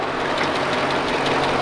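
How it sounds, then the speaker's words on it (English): Jeep engine idling with the hood open, a loud, steady rumble with a rough, slightly knocking texture, heard close and continuous. "Let's go ahead, pop the hood."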